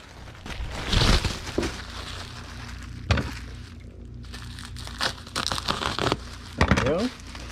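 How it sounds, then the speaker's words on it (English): A sheet of bubble wrap crinkled and handled close by while packing a sold item for shipping, with bursts of crackly rustling at irregular intervals separated by quieter handling gaps. "We need a sheet of bubble wrap that we'll cut in half."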